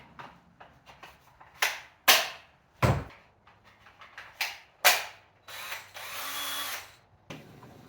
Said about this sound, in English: I'm screwing the big board into the small board